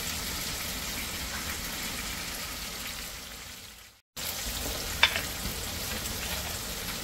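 Dry spices frying with onion and tomato for a Pathani chaap masala give a steady close sizzle, stirred with a spoon; it cuts out briefly midway, then resumes with a single metallic clink.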